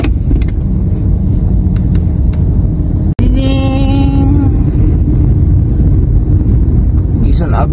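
Road traffic rumbling loudly and steadily from a moving vehicle, with wind noise, a sharp click near the middle followed by a rising whine.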